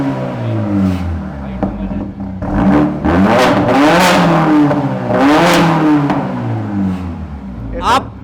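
A Mercedes-AMG 45 4Matic in sport mode revs its exhaust hard in a series of rising and falling bursts, close and loud, with brief dips between the pulls and a sharp final blip.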